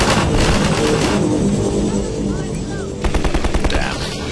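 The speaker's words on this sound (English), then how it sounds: "I'm hearing gunfire, people." Rapid bursts of gunfire in the video game Half-Life 2 crackle continuously, loud and dense, with voices talking over the shooting.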